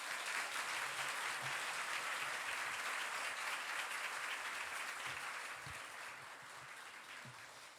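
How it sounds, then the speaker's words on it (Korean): A church congregation claps steadily in a dense, continuous wash to welcome a pastor to the pulpit during a Sunday worship service, easing slightly toward the end with no voices heard. "감사와 또 따뜻한 환영의 박수 부탁드립니다."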